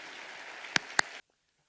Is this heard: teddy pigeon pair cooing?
no